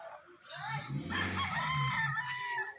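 A rooster at a Filipino gamefowl farm lets out a single drawn-out crow, fairly faint and set against quiet farmyard background.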